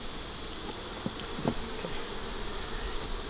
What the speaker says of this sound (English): And a lot of bees.